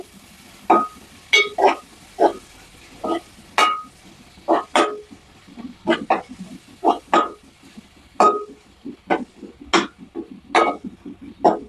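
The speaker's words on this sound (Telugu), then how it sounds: "ఇప్పుడు పుదీనా, కొత్తిమీర వేసుకోవాలి. వేసి ఒకసారి ఇలా కలిపేసుకోవాలి." Spoon scraping and clanking against a pot while mint and coriander are stirred into fish curry, a series of sharp metallic strokes in an irregular rhythm, close and fairly loud.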